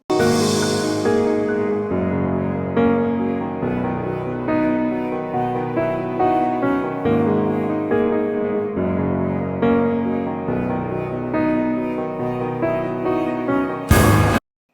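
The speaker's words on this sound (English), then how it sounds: "The actual piano, if we hear it in the context of the mix, it sounds like this" Piano chords sound within a full band mix, sustained and fairly loud, with a sudden bright burst of noise near the end.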